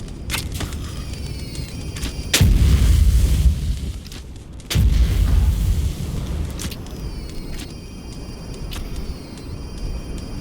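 Video game gunfire in a live-streamed shooter, two heavy booming shots a couple of seconds apart, each with a sustained rumble, over quieter background game sound.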